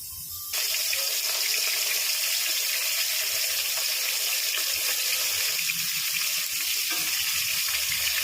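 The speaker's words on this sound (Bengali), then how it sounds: "মাছ আমি কালকেই ভেজে রেখেছিলাম, আজকে আরেকবার ভেজে নিচ্ছি।" Fish, already fried the day before, fries again in a pan, making a loud, steady, close hiss of sizzling oil that starts abruptly and keeps on without a break.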